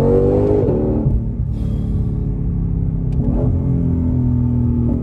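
A powerful 770-horsepower Mustang Shelby GT500 V8 revs hard and accelerates up close, a deep continuous roar climbing in pitch through gear changes, with no talking.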